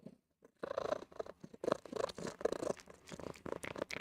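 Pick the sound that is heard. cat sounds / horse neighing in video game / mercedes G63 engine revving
cat sounds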